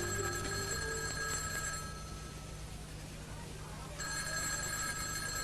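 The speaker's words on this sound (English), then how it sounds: "I want to answer the phone." A telephone rings near the start and rings again after a short gap, heard over a continuous low hum with a voice faintly in the background.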